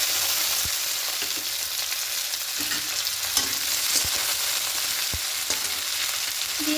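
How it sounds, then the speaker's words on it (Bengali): Onion frying in a pan with garlic and dried red chilli for red amaranth leaf fry, a loud steady sizzle broken by scattered scraping stirs, close up with no talking. "পেঁয়াজকে একটু হালকা লাল করে ভেজে দেবো"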